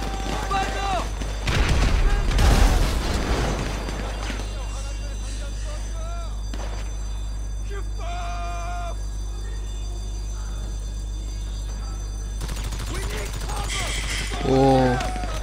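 Gunfire strikes a car in GTA V, bursts of sharp shots and booms against the vehicle, with game sounds and tones between the volleys.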